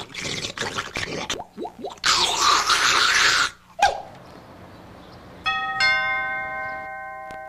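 A doorbell chimes near the end, a clear ringing tone following a patch of bangs, splashes and brief sounds.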